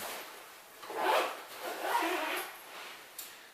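A motorcycle backpack's zipper is pulled open in a few quick rasping strokes, close by and fairly soft, with no talking.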